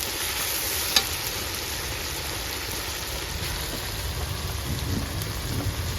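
Garlic sizzling with onions in a pan on a clay wood-fired stove, a dense continuous frying hiss with low rumble underneath, one sharp knock near the start.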